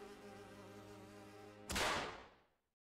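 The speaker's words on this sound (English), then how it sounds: "One bold insect must boldly go where no fly has flown before." A fly buzzes with a steady whining drone that swells into a loud close pass, then fades out to silence.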